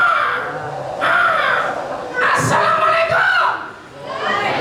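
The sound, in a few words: children imitating Ababil birds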